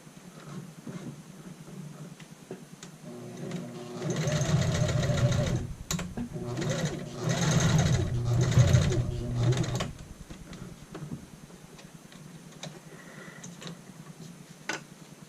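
A sewing machine stitches a child's shirt collar with a longer back stitch at the ends: two runs of steady, rapid mechanical ticking and whirring separated by a short pause, close and fairly loud over a quiet room.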